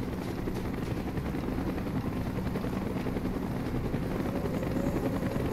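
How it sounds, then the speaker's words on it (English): Helicopter flying overhead in the Call of Duty: Black Ops video game, a steady, loud rotor thrum and engine drone that holds constant throughout. "Chopper's inbound!"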